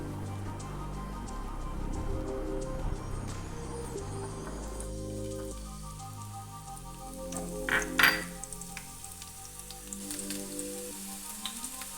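Shallots frying in coconut oil in a pan, a bright steady sizzle with low rumbling bubbling, and a brief clink of utensils near the middle, close and moderately loud, no talking.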